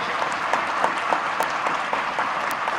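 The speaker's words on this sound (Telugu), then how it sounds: "మీరందరూ గట్టిగా చప్పట్లతో ఆమోదం తెలపండి" An audience at a political meeting claps loudly in steady applause, close and continuous for a few seconds.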